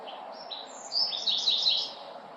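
Small birds chirp and tweet in a series of bright, high calls that swell in the middle of the clip, close and fairly clear over a low steady background murmur, with no talking.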